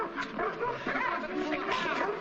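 Dog barking and yipping in a busy indoor scene, several short close barks mixed with excited human voices and commotion.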